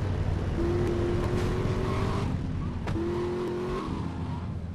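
A car drives in the GTA Liberty City Stories video game, its engine droning with two sustained revving tones separated by a brief break, steady and continuous.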